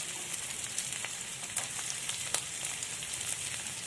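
Sliced big onions fry in hot oil for quail sukka, a dense, steady sizzle with fine crackles and pops throughout, close and even, with no voices.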